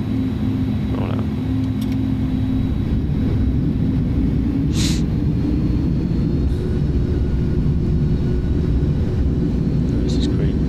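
An Airbus A310 rolling out after landing at Kai Tak in a flight simulator gives a steady low engine rumble with faint clicks and cockpit cues, while a voice talks over it.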